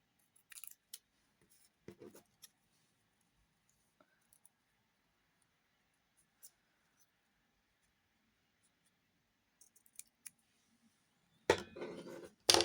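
Scissors snipping thin paper strips in half for a garland craft, a few brief crisp cuts spaced apart, near and quiet, with a louder burst of paper handling at the end.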